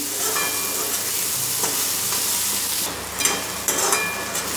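Okra (bhendi) sautés in oil with garam masala, giving a steady close sizzle with occasional spatula scrapes and a louder burst of frying near the end; no voices.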